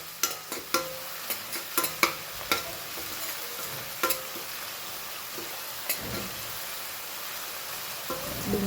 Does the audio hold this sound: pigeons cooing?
no